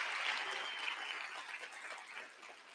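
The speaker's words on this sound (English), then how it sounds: "Let's give these folks a round of applause." Faint, distant applause from a crowd at a MEX Talks event, a steady patter of clapping that slowly tapers off.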